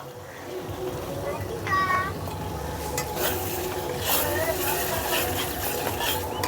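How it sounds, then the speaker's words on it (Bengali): Tomato paste going into frying spices in a pan for Bengali rui fish curry, a loud continuous sizzle and stirring scrape with a brief whistle-like tone early on, heard close with a voice faintly underneath. "এখন দিয়ে দিচ্ছি টমেটো পেস্ট"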